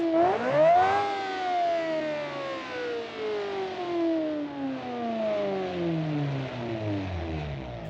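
One loud rev from a $9 million car with a faulty exhaust shoots up in pitch, then winds down in a long, steadily falling whine over several seconds, heard close up and alone.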